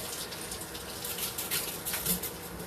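Tap water runs steadily into a kitchen sink while a steamer basket is rinsed under it, a continuous close splashing hiss with small surges and no talk.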